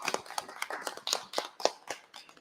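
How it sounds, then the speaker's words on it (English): A small group gives a short, light round of applause for a robot operator, with irregular soft claps of scattered hands over a couple of seconds. "a small round of applause for our robotic operating expert, Blair"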